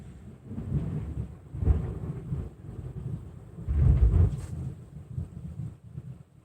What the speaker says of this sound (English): that thunder sounded like it started over there and just slowly like a